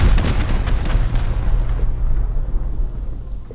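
Rocket explosions in Rust, a rapid series of loud booming blasts and crackling detonations at the start, fading into a rumbling tail among trees.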